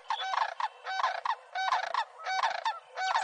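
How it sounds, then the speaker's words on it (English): Sandhill cranes calling outdoors in loud, rolling bugling bursts, about five calls repeated in a steady rhythm, close and clear with no voices. "about sandhill cranes is their distinctive bugling call"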